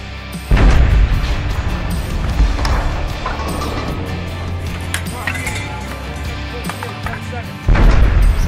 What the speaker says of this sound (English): So that's the sound of them pulling the lanyard, firing the round off.